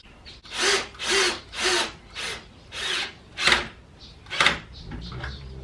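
Screws are driven into a wooden trestle hinge with a cordless drill, giving seven short, evenly spaced bursts of whirring and wood-grinding, each about half a second long, close and fairly loud.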